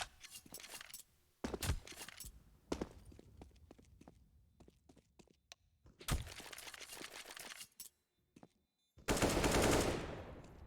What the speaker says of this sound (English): Annihilation gets 1 kill. Mac 10, unfortunately, not AK.